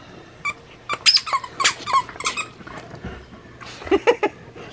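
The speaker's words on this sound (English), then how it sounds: "See that? That's squeaking." A dog chomps on a squeaky toy, setting off a quick series of sharp, loud squeaks in uneven bursts close by, with a short pause midway before another cluster of squeaks.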